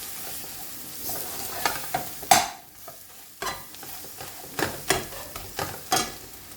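Chicken wings frying in a pan over low heat for a bhuna, with soft steady sizzling and scattered sharper stirring scrapes and clinks throughout, no talking.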